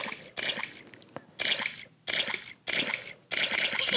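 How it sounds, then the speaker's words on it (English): Splashing in muddy puddles in a Peppa Pig game, five quick wet splash bursts in a steady jumping rhythm, close and clear with short pauses between. "Look at all that splashing."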